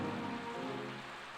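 Rain falls steadily in the PS2 role-playing game Growlanser III, a soft, even patter with faint tonal game music underneath, alone and short.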